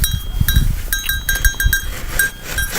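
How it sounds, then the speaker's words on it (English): Goats grazing in a Mediterranean winter landscape give short close bleats amid rustling and chewing, with faint bell-like clinks. "So the goats have really found something to eat,"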